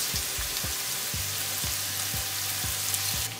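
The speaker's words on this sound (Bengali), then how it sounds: "পেঁয়াজ কাঁচামরিচ দিয়ে পেঁয়াজ কাঁচামরিচ আমি 3-4 মিনিট ভেজে নিব।" Chopped onion and green chili frying in a pan for dried chela fish chorchori, a steady broadband sizzle with about eight regular low knocks of a spatula stirring against the pan, alone without talk.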